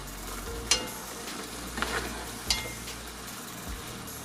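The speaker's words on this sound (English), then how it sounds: "Go ahead and stir everything in." Ground turkey and sauce being stirred in a pan for lasagna, with a soft steady sizzle and a few sharp scraping clicks of the spoon against the pan, close and quiet with no talking.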